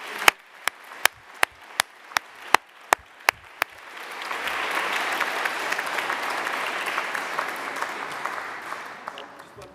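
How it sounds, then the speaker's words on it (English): Graduation and prize-giving ceremony audience applauding: a few sharp single claps at first, then a dense, sustained wash of clapping from a large crowd that holds steady to the end. "let's have a round of applause"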